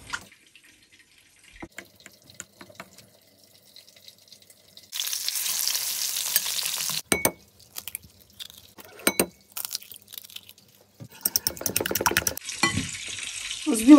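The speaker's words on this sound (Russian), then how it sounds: "Разогреваю масло на сковороде." Cheese-filled meat cutlets fry in hot oil in a pan, giving a steady broad sizzle in bursts with brief pauses, interrupted by clinks and stirring noises from close by.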